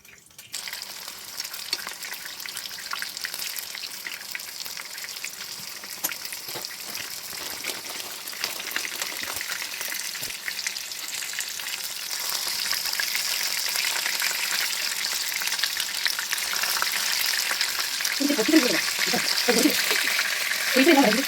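Chicken popcorn pieces fry in hot oil, a constant hissing bubble that slowly grows louder over a long stretch, with a brief low rattle near the end.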